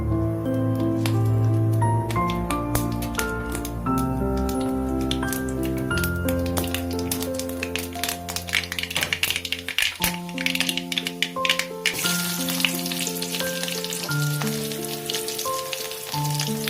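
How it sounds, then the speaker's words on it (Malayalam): Mustard seeds crackle and pop as they fry in hot coconut oil, a steady scatter of quick taps and sizzle running under loud tonal music throughout. "കടുക് പൊട്ടിത്തുടങ്ങി"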